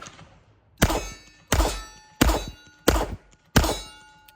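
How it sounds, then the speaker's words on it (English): A blued Colt Python revolver with a 4-inch barrel is fired two-handed five times at a steady pace, each shot a loud, sharp crack close by with a short ringing decay. "I'll shoot it two-handed, and we'll see if I can actually aim"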